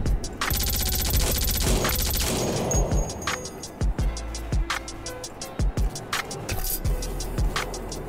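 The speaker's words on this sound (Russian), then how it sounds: "Он хоть и имеет такую большую скорострельность, но не так уж прям быстро он и отстреливает." Rapid automatic bursts from a machine gun in a video game, a dense rattling stream of shots that breaks into shorter bursts and single cracks, loud and close with no talk.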